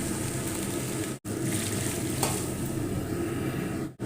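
Water poured into a pot of raw rice while making chicken biryani, a steady broad rushing pour running through nearly the whole stretch with two brief breaks, close and fairly loud.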